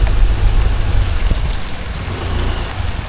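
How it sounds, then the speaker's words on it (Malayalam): Heavy rain pours steadily and loudly nearby as a dense, continuous hiss of drops on surfaces, with a low rumble underneath and no voices. "നല്ല മഴയാ, കിട്ടില്ല മഴ."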